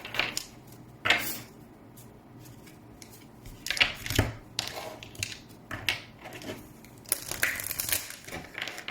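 Tarot and oracle cards are shuffled by hand in short crisp riffles and flicks, quiet and close, irregular bursts separated by soft pauses, with no talking.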